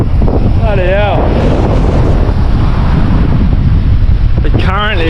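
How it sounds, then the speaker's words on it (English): Ocean water surges and washes around a small boat near Coral Bay, a loud, continuous rush buffeted by heavy wind noise on the microphone, with brief voices breaking through. "Current is just surging."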